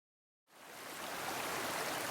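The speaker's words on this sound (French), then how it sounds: "Alors, on a un petit ruisseau à traverser." A small stream near Castérino flows steadily, a soft continuous rush of water that starts abruptly after a brief silence and holds at an even level, close and alone.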